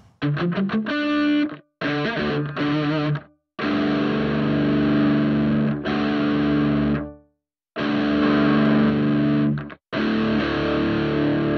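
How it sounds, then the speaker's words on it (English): Distorted electric guitar chords through a Headrush Prime organ pad effect, swelling into sustained organ-like pads, played in several long phrases separated by short silences. "having the organ behind a guitar tone sounds quite wonderful"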